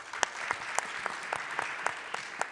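Scattered applause at the CPAC conference, a thin crowd clapping with distinct sharp individual claps standing out at an irregular rhythm, fairly quiet and without talk.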